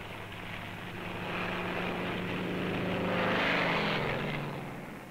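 A World War II propeller plane approaches to land on an Essex-class aircraft carrier, its steady engine drone swelling louder as it nears and easing slightly at the end, heard alone without voices.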